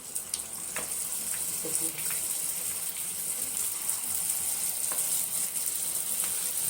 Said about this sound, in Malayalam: ചെറിയ ചട്ടിയിൽ കുറച്ച് എണ്ണ വെച്ച് നമുക്ക് മുക്കി വറുത്തെടുക്കേണ്ടതല്ലേ ഇത്